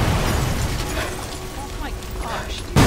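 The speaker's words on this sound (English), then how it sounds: "There's so much explosions happening at this time." Explosions in the video game Sniper Elite 4, a dense rumbling roar with scattered bursts and a sharp loud blast near the end, mixed with faint voice activity.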